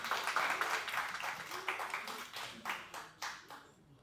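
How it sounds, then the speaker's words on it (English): Scattered, quiet clapping from a small audience at a software developer meetup in Bangkok after a talk. Individual claps thin out and fade over a few seconds. "Please give a round of applause again for the talk."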